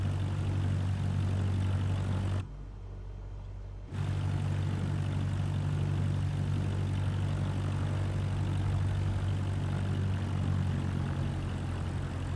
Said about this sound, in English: Now slowly taxi onto the runway and align the plane with the center line.